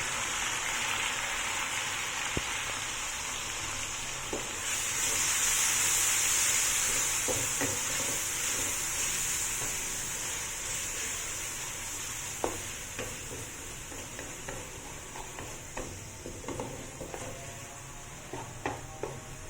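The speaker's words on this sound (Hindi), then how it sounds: "अब हम इसके अंदर ऐड कर देंगे तकरीबन 3 कटे हुए टमाटर" Chopped tomatoes, about three, tipped onto browned onions in a pan for kofta curry, frying with a steady sizzle and scattered stirring scrapes and clicks, a brighter hiss swelling briefly as they hit the hot oil.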